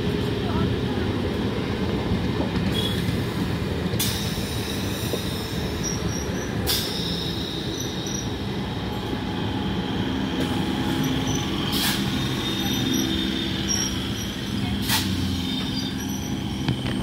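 An Up Naihati–Bandel local train entering and leaving Hooghly Ghat railway station, with a steady loud rumble of rolling carriages, periodic wheel clicks and high squeals, and a voice talking under the noise.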